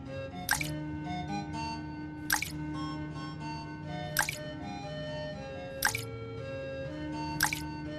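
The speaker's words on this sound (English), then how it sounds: "He went and picked up one stone at a time and put it in the pitcher." Small garden stones dropped one at a time into a water pitcher: five evenly spaced, crisp plinking splashes over a soft, continuous musical background.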